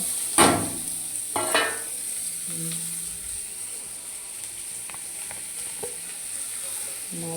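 Chopped onion frying in a pan for a spiced rohu fish curry, with a steady sizzle broken by a few sharp stirring scrapes early on, close and moderately loud.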